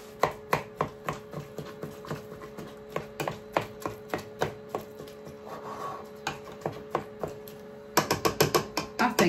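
A utensil scraping and chopping Costco beef mince in a pan, a loud, regular run of clacking strokes that speeds up into a quicker burst near the end, with no talking.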